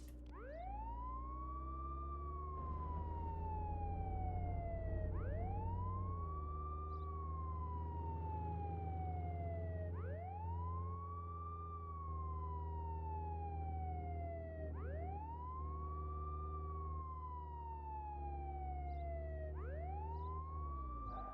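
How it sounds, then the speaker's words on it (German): Police car siren in the Contraband Police video game, a loud continuous wail rising and falling in long regular sweeps over a low engine drone, no voices. "Kann ich die Sirene wieder anmachen?"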